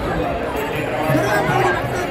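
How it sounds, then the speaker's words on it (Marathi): A large crowd walks along both sides of the road during the Alandi palkhi procession of 2023, a steady wash of chatter and babble from many people close by, continuous and dense throughout. "लोकांची गर्दी बघा पाठीमागे केवढी आहे."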